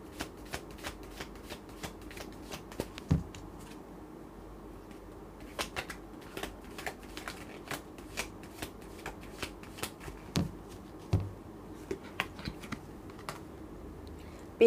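Tarot cards are shuffled and drawn, making rapid, close, crisp riffling clicks and slaps in irregular bursts against a quiet background.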